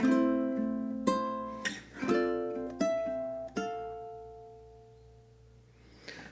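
A ukulele plays bar six of a song: single plucked notes and ringing strums, with about five clear attacks that each ring out and fade, close and solo.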